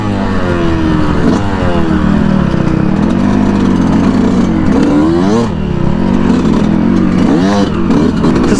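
Yamaha YZ125 two-stroke dirt bike engine running and revving: a loud, close, buzzy engine note rising and falling in repeated rev sweeps without pause.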